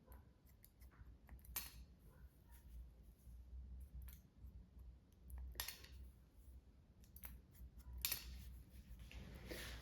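Scissors trim the ends of hair growing out from a pixie cut, faint crisp snips at irregular intervals over a quiet room, with no voices.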